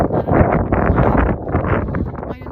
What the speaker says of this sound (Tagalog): Ngayon po ang lamig talaga. Kasi lakas ang hangin.